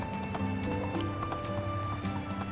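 Donkey hooves clip-clop in a steady, quick rhythm as the animal is ridden in the medieval game Medieval Dynasty, set under a constant bed of game music and ambience.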